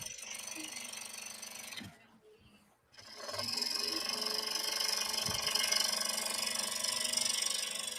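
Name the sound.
oscillating spindle sander sanding wood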